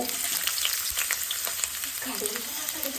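Ginger fries in hot oil for a ginger curry, giving a continuous close sizzle with faint stirring scrapes, loud and steady with no pauses.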